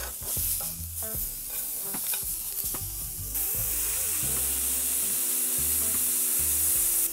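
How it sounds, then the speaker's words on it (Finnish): A ground beef burger patty sizzles loudly in a frying pan, a close and steady crackling hiss, with faint stirring or scraping touches early on and tonal background sounds underneath. "Mutta tässä nyt selkeästi tirisee kaikista eniten"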